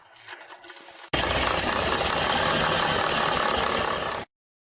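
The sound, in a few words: faulty car pump noise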